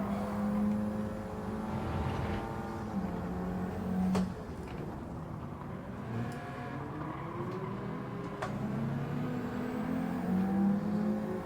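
Racing car engine in Gran Turismo 7, droning and revving steadily throughout as the car corners, with pitch rising and falling through gear changes and another car briefly audible nearby.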